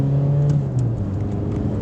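Diesel engine of an Audi A3 8L 1.9 TDI from 1996 under full-throttle acceleration, a steady droning pull with a slowly falling tone, heard close and loud with no talking.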